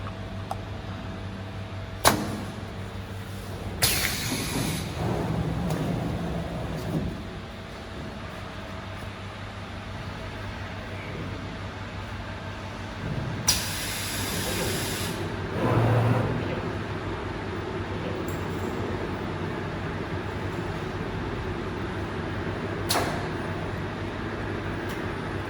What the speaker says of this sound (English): It is now welding end caps of second ends of 20-inch filters.